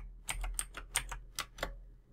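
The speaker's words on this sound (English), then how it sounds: "Exit this part by typing exit." Keys tapped on a computer keyboard while entering a command to fix a Windows startup error, about eight distinct close clicks in quick irregular bursts over a faint steady hum.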